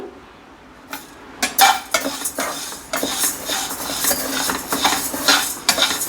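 Pongal ingredients being dry-roasted in a pan on a low flame, with clinks and scrapes of a metal spoon against the pan over a soft sizzle, the stirring strokes coming irregularly.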